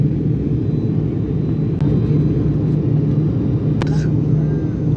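Airliner cabin on a Kerala to Jaffna flight landing at Jaffna, filled with a loud, steady engine and airflow roar and a couple of brief clicks.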